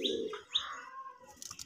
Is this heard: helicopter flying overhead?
no